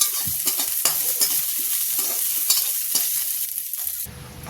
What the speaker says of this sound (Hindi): अब कढ़ी हमारी देखिए उबलने लगी है